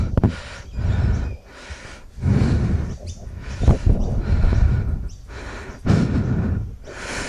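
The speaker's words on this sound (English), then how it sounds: "You might be able to hear I'm breathing heavily." Heavy, rhythmic breathing sounds close up, with loud gasping inhales and exhales repeating in quick succession.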